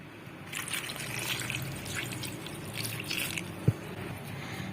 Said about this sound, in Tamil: இப்போ திருப்பியும் வாட்டர் ஆட் பண்ணிக்கலாம்.